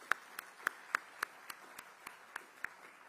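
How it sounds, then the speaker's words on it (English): Light, sparse clapping from a summit audience: about ten separate claps at a steady slow pace, thin and somewhat distant, with no voices over them. "Let's give Jackson a huge round of applause"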